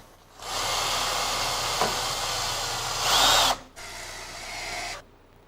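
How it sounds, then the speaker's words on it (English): A power drill drives screws into a wooden handrail in a close, loud whirring burst lasting about three seconds that rises briefly in pitch near the end, then stops and restarts for a second, shorter run. "Now, we fasten the handrail with screws."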